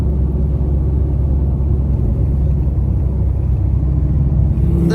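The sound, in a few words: Chevy II drag car engine rumbling on the road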